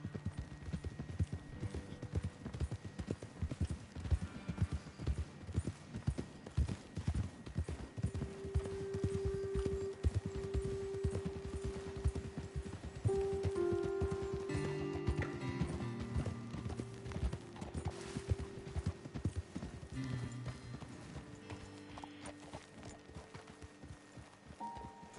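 Horses trot across open terrain in the Red Dead Redemption 2 video game, a steady run of close clip-clop hoofbeats throughout, joined midway by soft tonal game music.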